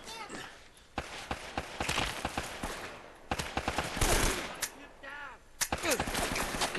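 Gunfire from the video game Uncharted cracks out in sharp bursts and rapid volleys, some loud and some farther off, with footsteps and players talking in between.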